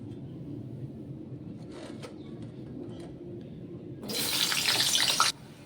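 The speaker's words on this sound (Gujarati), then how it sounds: "આપણા બટેકા પણ મેં પાણીમાંથી કાઢી લીધા છે અને એકદમ સરસ નિતારી લેવાના છે" Water pours and drains from soaked potatoes, a brief steady rush of splashing that starts abruptly and stops about a second later over faint kitchen background hum.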